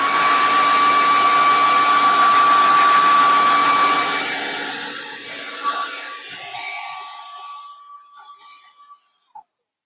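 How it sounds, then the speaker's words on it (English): Blow dryer drying a vintage truck sign, running close with a steady high whine and airy rush, then switched off so the motor winds down and fades into quiet. "I'm going to get my blow dryer and make sure everything is nice and dry"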